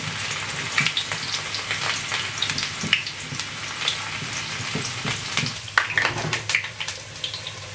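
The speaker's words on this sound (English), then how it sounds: "I'm warming some oil, and then I will add onion" Onion sizzling and frying in hot oil in a home kitchen while cooking cabbage sauce, a soft continuous crackle with irregular pops and occasional stirring, close and moderately quiet, no talking.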